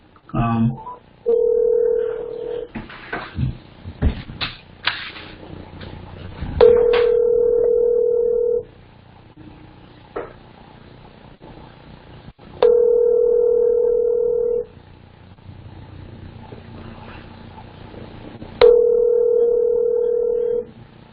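On an outgoing call, a telephone handset gives short tones, then a repeated ringback tone in evenly spaced bursts a few seconds apart, with faint background murmur between rings.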